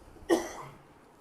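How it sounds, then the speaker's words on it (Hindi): A single sharp cough sounds close and clear in a quiet room, then trails off into stillness. "मैं भी खांसी करना शुरू करो जोर जोर से"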